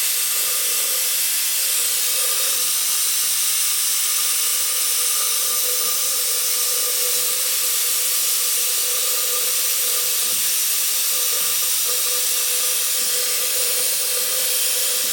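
Air-powered vacuum brake bleeder pulling brake fluid out of a car's brake reservoir, giving a steady, loud pneumatic hiss that runs unbroken and even throughout.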